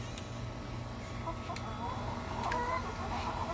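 Chickens cluck softly in a hot coop, faint and scattered under low background noise, with a few brief sharper calls.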